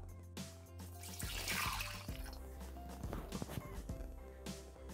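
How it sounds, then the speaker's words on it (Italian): Water is poured into a Thermomix mixing bowl at the start of a pumpkin and ricotta bake recipe. Light splashing and trickling sit under a steady low hum, with a few brief drips near the end. "Iniziamo la ricetta mettendo all'interno del boccale l'acqua"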